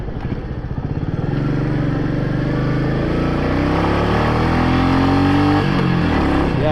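A Royal Enfield Meteor motorcycle accelerates on the road, its engine thumping close and loud with a rising pitch as it pulls through the gears, steady with no talk.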